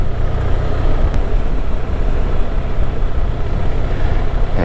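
A motorcycle ridden on a rider training course sends out a loud, steady rumble of engine and wind buffeting close by, with no break and no talking.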